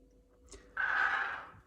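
Ethanol poured into RU58841 powder gives a brief, close, hissing trickle lasting about a second, then quickly fades.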